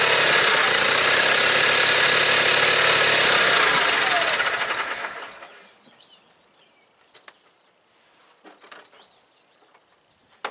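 Truck engine roars loudly and steadily up close just after a cold start, then fades away after a few seconds, leaving a quiet scene with birds chirping and faint clicks.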